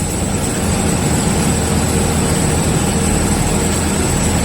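A wind tunnel machine in a fluid mechanics lab gives out a loud, steady roar of rushing air with a faint high whine, holding an even level throughout with no voices.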